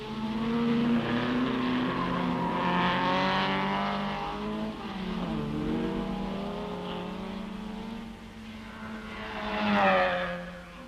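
Triumph Spitfire and MG race cars in the 1964 Tour de France Automobile at Rouen: engines drone and rise and fall as cars pass, with gear changes and a louder surge near the end, moderately distant, no voices.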